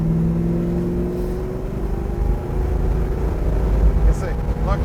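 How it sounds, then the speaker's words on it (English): A 1966 Chevrolet Chevelle big block V8 rumbles steadily at close range, its deep low grumble rising slightly as it revs, with a voice talking over the engine. "There's that big block Chevy grumble."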